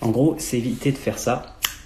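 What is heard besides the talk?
No distinct noise like a dog, phone or traffic.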